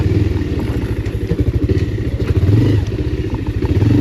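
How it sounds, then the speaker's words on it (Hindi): Bajaj Pulsar 220F motorcycle engine running with a rattling, clattery idle, steady and close, with rhythmic ticking pulses throughout and no talking. "इसकी झरझर वाली कोई आवाज़ है क्या? सुनिए, मुझे तो सुनाई दे रही है"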